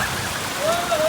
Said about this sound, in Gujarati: આવ્યો છે વરસાદ બરોબરનો